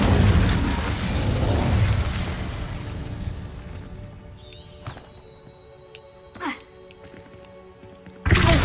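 Incendio fire spell cast in Hogwarts Legacy, a broad roaring burst of flame that fades into lingering magical shimmer, followed by a couple of short whooshing pops and a loud final blast.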